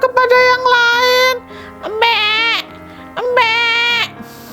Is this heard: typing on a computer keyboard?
no